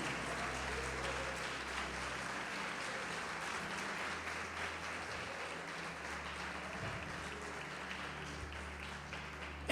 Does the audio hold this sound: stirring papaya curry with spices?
no